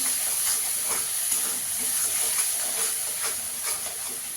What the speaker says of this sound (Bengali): মশলাটাকে ভালো করে কষিয়ে নেবো একটু।